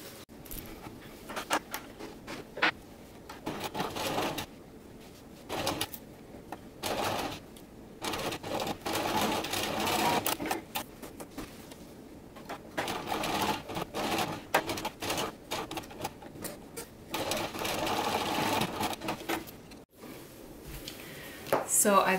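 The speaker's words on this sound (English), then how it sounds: "Now you're going to sew on each side, and you're going to sew with a straight stitch and a 3/8 inch seam allowance." A sewing machine runs a straight stitch along the side seams of a fabric pencil pouch, in repeated short bursts of rapid mechanical clatter separated by brief pauses, with backstitching at the corners.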